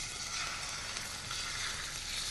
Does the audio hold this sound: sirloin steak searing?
yes